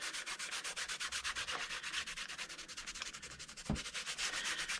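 Muslin is rubbed firmly down onto the spine of a hardcover journal by hand, a close, steady run of rhythmic scratchy strokes with one brief thump partway through.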